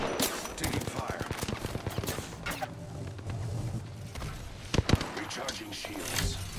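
Gunfire in the video game Apex Legends: rapid automatic bursts ring out, then fade into scattered heavy shots and impacts, with a voice speaking over the fighting.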